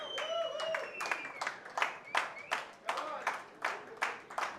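An audience at a celebrity actors' cricket event claps as a team captain is welcomed on stage, giving rhythmic, fairly close unison clapping in steady beats while a voice talks over it.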